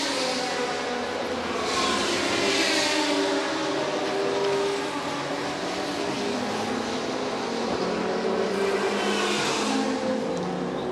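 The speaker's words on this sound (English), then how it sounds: "there you see the 63 car of Corvette with Max Pappas at the wheel" The Corvette No. 63 race car drives during the 2006 24 Hours of Le Mans, giving a steady, loud engine roar that swells and fades as it passes, without speech.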